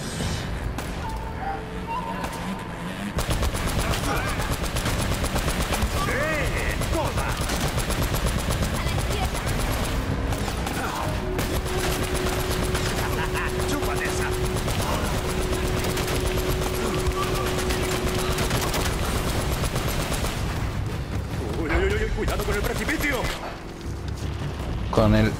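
A machine gun in the video game Uncharted fires in a loud, dense, nearly unbroken stream of rapid shots for about twenty seconds, with explosive booms mixed in.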